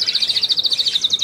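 Pet budgerigar chirping indoors, a rapid run of bright, close, evenly spaced high chirps and twitters continuing without pause.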